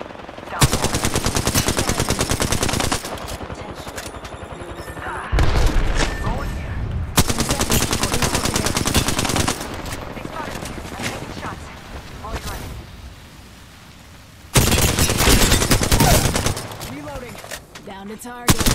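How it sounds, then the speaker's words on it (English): Heavy automatic weapon fire in the battle royale game Apex Legends: long, loud sustained bursts close up, broken by brief pauses, with game voice callouts and occasional louder impacts mixed in. "Taking fire."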